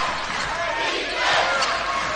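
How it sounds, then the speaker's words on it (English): Crowd noise in a basketball arena during a tight late-game moment of a BBL Championship match, a dense, loud roar of shouting and cheering voices that swells slightly toward the end. "Crowd starting to make a bit more noise here."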